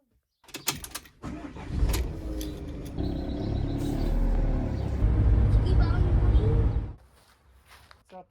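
A camper van conversion drives off with its first passenger riding inside. Steady low engine rumble and road noise run for about six seconds, then cut out abruptly.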